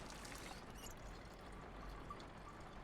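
Water poured to top off a supply in the video game Project Zomboid: a faint, steady splashing pour with a soft trickle, continuous and quiet.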